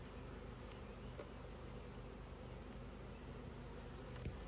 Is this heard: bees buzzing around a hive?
yes